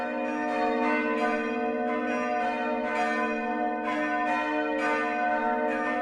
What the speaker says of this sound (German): Und je nachdem, was für ein Fest war, hast du das Glockengeläute, das hast du im Ohr.